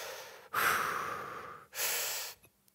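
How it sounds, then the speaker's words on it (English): Two long, airy breaths taken up close during a thoracic spine rotation stretch, each a steady rushing draw lasting about a second with a short pause between, quiet and with no voice over them. "Make sure to breathe in"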